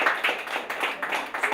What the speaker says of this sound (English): They are doing a big round of applause for them.